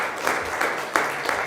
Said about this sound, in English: can we get applause for the roundtable here providing us?